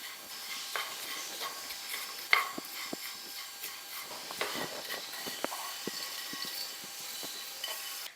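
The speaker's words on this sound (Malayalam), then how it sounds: "എന്നിട്ട് നന്നായിട്ട് ഈ പൊടികളൊന്ന് മൂക്കുന്നത് വരെ ഇളക്കി കൊടുക്കാം." Coriander and garam masala powders being stirred in a pan while toasting for a homestyle mushroom curry, giving faint, steady scraping and light sizzling with scattered soft ticks and clinks of the spoon, and no talk.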